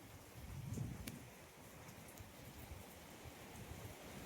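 Heavy unseasonal May rain in the Konkan countryside, a faint, steady wash of rainfall with a soft gust near the start, heard from near a tin-roofed shed.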